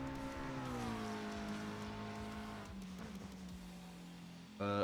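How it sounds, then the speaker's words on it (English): A McLaren race car in iRacing pulls out of the Imola hairpin and climbs the hill, its engine note rising and then easing as it gains speed, with a sharp loud burst at the end. "He heads into the hairpin and up the hill, getting his iRacing McLaren moving"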